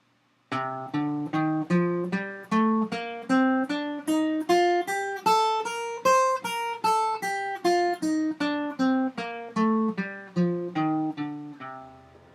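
A C Dorian mode scale played note by note, climbing steadily and then descending, about twenty-five evenly spaced tones with a clear, bright timbre.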